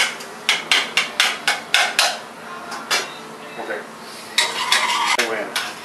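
Sausage chopped in a cooking pan for stromboli filling, a run of sharp, evenly spaced knocks close by, then a pause and a second, busier burst of scraping and clatter.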